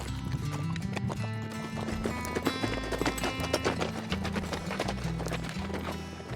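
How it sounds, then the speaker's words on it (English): Horses gallop on a desert trail ride, their hooves drumming in a steady rapid clip-clop that runs throughout under music. "Guys ready for some galloping?"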